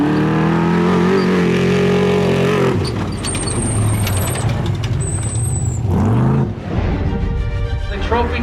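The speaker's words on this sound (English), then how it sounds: "The trophy trucks are making their way here into Ensenada." Race trucks roar toward the finish line in Ensenada during an off-road desert race, loud engine drone and revving with a passing whoosh, busy crowd and ambient noise around them, brief high-pitched tones above.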